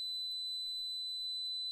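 Steady electronic beeping from a DSC home security alarm keypad during the entry delay after a door is opened, a continuous high tone sounding alone at moderate level.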